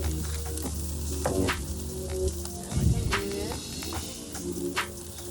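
Bacon-wrapped asparagus sizzles steadily on a grill, a constant crackling hiss with scattered pops and a few clatters of tongs turning the spears, moderately quiet and close.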